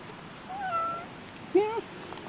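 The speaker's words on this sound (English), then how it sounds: "Hey, sweet kitty." A cat outdoors on a city block gives two short, faint meows about a second apart against quiet street background.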